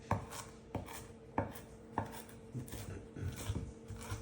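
Knife chopping fresh cilantro on a cutting board for rice, a steady series of sharp, close, moderately loud chops at an even rhythm with no talking.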